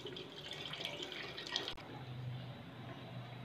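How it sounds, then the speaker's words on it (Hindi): Water runs steadily into a cooking pot for mutton paya broth, a soft continuous splashing pour with a faint clink partway through. "शोरबे के लिए पानी डाल लिया है"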